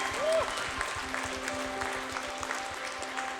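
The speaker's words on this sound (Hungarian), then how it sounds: "Tapsoljuk meg az Urat, mert nagyon jó." Applause at a Hungarian church gathering as people clap to praise the Lord, a steady scattered patter of hands, with a brief voice tone near the start.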